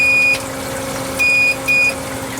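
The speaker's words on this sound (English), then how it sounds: "you hear a little beep." Tunze Osmolator aquarium top-off unit with its float switch lifted: three short, clear high-pitched electronic beeps over a steady low hum from nearby equipment.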